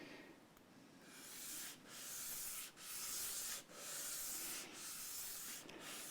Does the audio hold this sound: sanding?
yes